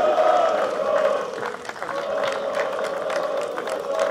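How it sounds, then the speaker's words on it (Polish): A stadium crowd applauds at a team presentation for the RKS Raków Częstochowa football club. The dense, continuous clapping and crowd noise hold at a steady loud level throughout. "Wielkie brawa."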